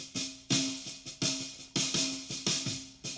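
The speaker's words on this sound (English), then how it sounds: "The snare sounds like this soloed." A soloed snare drum track processed with Slate Digital plugins, struck in a steady pattern of sharp, loud hits with short ringing decay, about two to three strikes per second, alone with no talk.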